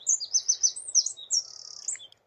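Cetti's warbler at Rainham Marshes bursts into its loud, rapid song of sharp repeated chirps, close and clear, with no talk over it.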